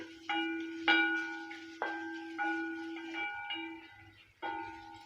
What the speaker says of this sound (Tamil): இப்போ எல்லாம் கிண்டி விட்டுக்கலாம்